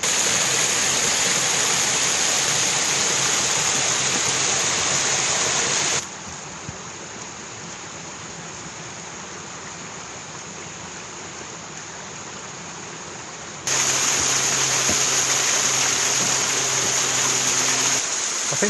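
River on Blackden Moor, a steady, close rushing of flowing water heard alone, loud at first, then softer and muffled for several seconds before the full roar returns.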